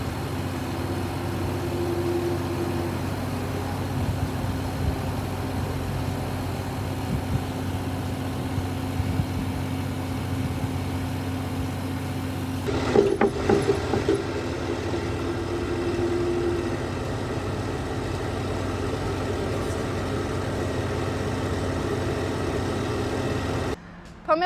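An Arbos tractor in first creeper gear during a pulling force test, its engine droning steadily at low speed for the whole stretch, with a brief clatter partway through.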